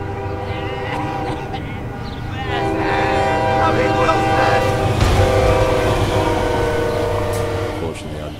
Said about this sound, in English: there was a train coming